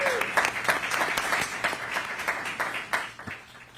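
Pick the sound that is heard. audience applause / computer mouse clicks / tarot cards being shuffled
audience applause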